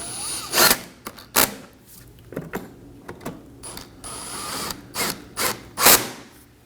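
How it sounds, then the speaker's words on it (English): Hand tool clicking as corner T30 Torx screws are snugged down on a 2014-2023 Ford Transit Connect fog light area: a series of short, sharp ratcheting clicks in uneven bursts, close and fairly quiet, with no talk. "We're going to reinstall our corner T30 Torx screws. Line these up and snug them down."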